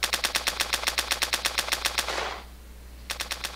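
Guns in the VR game YAVR Toy Box fire in rapid, evenly spaced bursts of sharp shots, stop briefly, then resume, crisp and close with no voices.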